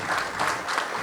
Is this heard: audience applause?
yes